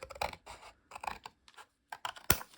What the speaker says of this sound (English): So I will just take my scissor and cut it